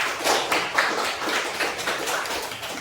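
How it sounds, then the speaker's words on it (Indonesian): Students in a classroom applaud a group that has just finished its presentation, a steady dense wash of many hands clapping at once, fairly loud throughout, with no voices heard. "Kasih tepuk tangan lagi"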